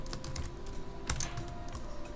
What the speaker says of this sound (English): Sorry, typing around loudly.